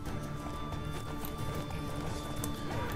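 Horse hooves clip-clop steadily in The Witcher 3: Wild Hunt, a continuous rhythmic trot over a dense game soundscape, loud and unbroken throughout.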